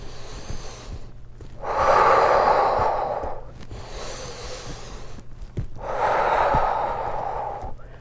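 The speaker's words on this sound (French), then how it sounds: "On reste ici pour 2 respirations." Two long, loud breaths during a Pilates swimming exercise, each a broad airy rush lasting about two seconds, separated by quieter pauses and soft background hum, with no talking.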